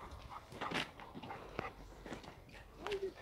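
Dog moving about outdoors near a towing job, with faint whimpers, snuffles and scuffling steps, quiet and intermittent against low background rumble.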